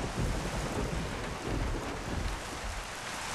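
Heavy rain pours steadily with a low thunder rumble underneath in the video game Mafia 1, loud and continuous with no voices.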